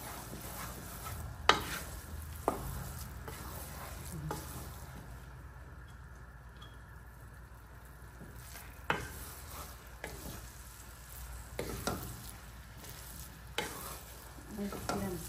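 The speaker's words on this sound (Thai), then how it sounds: "ให้คนแต่ข้างเดียวกันแบบนี้ตลอด" Rice sizzles quietly in a pan as it is stirred for fried rice porridge, with a steady low frying hiss and periodic scraping strokes of the spoon along one side.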